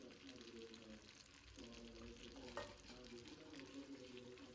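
Onions fry in oil in a clay pot with a soft, continuous sizzle, broken by faint stirring sounds and an occasional louder clack, all at low volume.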